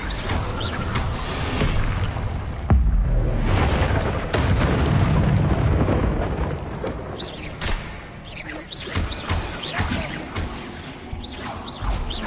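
In the Hogwarts Legacy video game, an Incendio fire spell is cast in combat, giving loud booming blasts and crackling, whooshing bursts over a dense rumbling game soundtrack.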